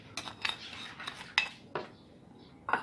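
Spices, black pepper, salt and gram flour are mixed in a bowl for kadu kabab, heard as sparse close clinks and scrapes of a spoon against the dish at an uneven pace, with quiet gaps in between.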